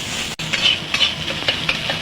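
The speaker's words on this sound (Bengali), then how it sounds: "ডিমটা এভাবে নাড়াচাড়া করে ভেজে নেব।" Eggs stirred and fried in hot oil in a wok, egg chow mein being made, give a bright continuous sizzle broken by quick scraping stir strokes and light metallic taps, close up and without speech.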